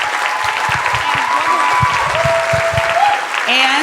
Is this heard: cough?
no